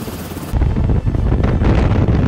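An agricultural helicopter setting down, a loud close rotor and engine roar with heavy wind buffeting on the microphone, steady and dense throughout.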